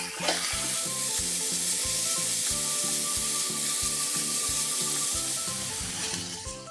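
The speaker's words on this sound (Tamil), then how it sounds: "மீடியம் ஃப்ளேமில் வச்சு நல்லா வதக்கிக்கலாம்." Tomatoes with turmeric and salt sautéing in a pan on medium flame, a continuous hissing sizzle carried under loud, rhythmic background music, with no voices.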